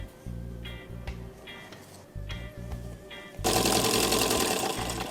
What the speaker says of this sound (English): We're ready to sew our hat together.